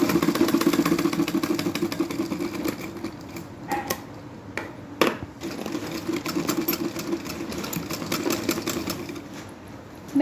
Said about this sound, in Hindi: दोनों तरफ मैं बीच से ही स्टार्ट करके सिलाई को लगाऊंगी इसको।